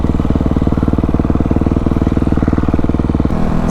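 A Kawasaki KX250F dirt bike engine while riding, a loud rapid pulsing four-stroke drone held steady, then shifting pitch near the end as the throttle changes.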